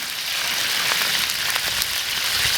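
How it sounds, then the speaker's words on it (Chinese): Chili peppers fry in hot beef tallow, giving a dense, continuous crackling sizzle like rain, with scattered sharper pops throughout. "牛油，我们炒辣椒"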